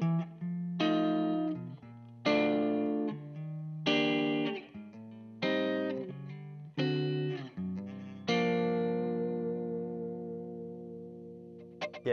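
An electric guitar on its neck pickup plays warm, jazzy chords through a VOX VXII modelling amp, six clean strummed chords in a slow rhythm, then a final chord left ringing and fading, close and alone.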